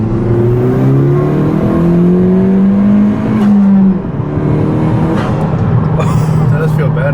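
A 10th gen Honda Civic Si with a MAPerformance intercooler revs up loudly during a test pull, engine pitch climbing steadily then dropping at a shift before rising again, close and continuous with voices talking over it.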